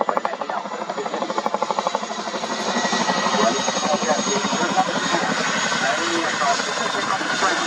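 Heavy RAF Chinook helicopter rotors thudding rapidly and steadily at an air show, blending into a loud, continuous engine roar, close by with no voices.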